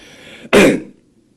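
A single short, sharp cough, close and loud, then quiet.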